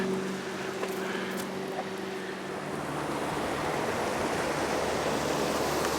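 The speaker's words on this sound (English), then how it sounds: "That's all the water that's coming through, really." Heavy river water rushing through a weir on the Creuse, a big river at exceptionally low summer level, a steady, loud broadband roar with no voices.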